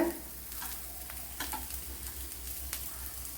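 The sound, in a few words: bitter gourd sautéing in a pan for pickle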